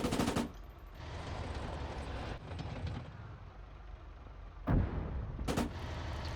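Tank cannons fire in an Arma 3 World War II tank battle between Shermans and a T-34-85. Sharp, booming shots come at the start and again near the end over a continuous rumble of engines and battle noise.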